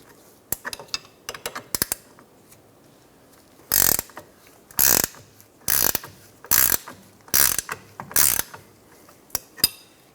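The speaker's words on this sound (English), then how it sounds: "Using 2 18mm wrenches, we're going to loosen the lower link bolt." Two 18mm wrenches work loose the lower link bolt on the rear suspension of a 2007-2012 Nissan Altima, giving a string of sharp metallic ratcheting clicks and several loud, close bursts of rapid clicking.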